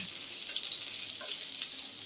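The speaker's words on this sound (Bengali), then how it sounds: "আমি গ্রেভিতে প্রথমে একটু রসুন কুচি দিলাম আর একটু আদা কুচি দিলাম" Chopped garlic and ginger fry in hot oil as the first step of a gravy for soya chilli, giving a steady close sizzle with a few faint stirring clinks and no talking.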